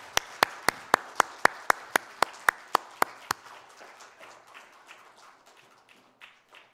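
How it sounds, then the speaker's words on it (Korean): A church congregation at a Sunday service claps in unison, about a dozen sharp, evenly spaced claps, then the beat breaks up into softer, scattered clapping that fades out. "하나님께 영광의 박수를 드리겠습니다"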